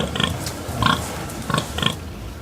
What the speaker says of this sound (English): I choose pig.